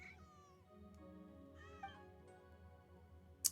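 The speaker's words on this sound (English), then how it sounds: "Do you not see this cat?" A cat in the Genshin Impact game meows several times in a row, the calls rising and falling clearly over a quiet background of in-game ambience, with a sharp brief sound near the end.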